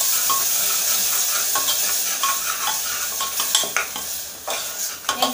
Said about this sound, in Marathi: एक 2 मिनिटं आपल्याला छान परतवायचं आहे।